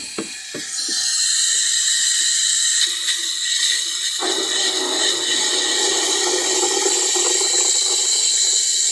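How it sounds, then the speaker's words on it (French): A water jet pours into a container for garden watering, a steady loud rushing stream that deepens in tone partway through as the container fills. "Il faut mettre le jet au fond pour éviter que ça mousse de trop."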